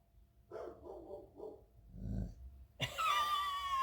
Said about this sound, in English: You made that growly sound because the neighbor dog barked, didn't you?